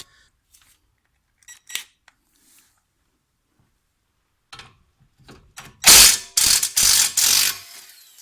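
A ratchet clicks as it loosens the 18 mm caliper bracket bolts on a BMW front brake, starting with a few sparse ticks and building to loud, rapid ratcheting bursts near the end.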